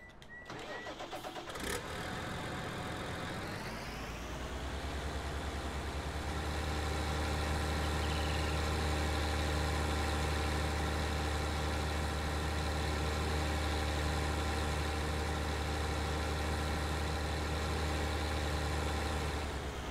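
A tractor engine in the Farming Simulator 19 game cranks over with a brief starter burst, then settles into a steady, loud low idle that drones on alone for the rest of the stretch.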